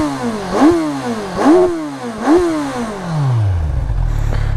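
Kawasaki Z1000R motorcycle engine revved hard three times in quick succession, each rise falling back, then settling into a steady loud idle; close and with no voices.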